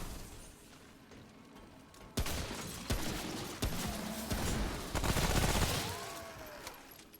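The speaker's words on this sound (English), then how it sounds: "Coach gun, coach gun, coach gun." A coach gun shotgun fires about four or five sharp, booming shots at uneven intervals in the video game Remnant: From the Ashes, amid gritty combat noise and a faint whooshing background.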